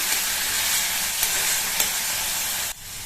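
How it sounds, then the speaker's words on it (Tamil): Onions sauté in a pan with a loud, steady broadband sizzle and a few light stirring clicks, ending abruptly with a sudden drop in level near the end. "இந்த வெங்காயமும் வேகமாக வதங்கிடும்"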